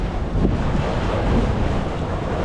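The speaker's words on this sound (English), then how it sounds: "We're by the river." Riverside ambience in Thailand with steady, loud wind buffeting the microphone over a broad rush of moving water, continuous with no clear breaks.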